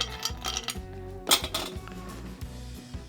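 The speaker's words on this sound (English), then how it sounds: "So need to discard this ice somewhere" Ice cubes tipped out of a chilled cocktail glass, clattering and clinking in a quick series of hard, close knocks and rattles, the loudest bunched near the middle, with no voices over them.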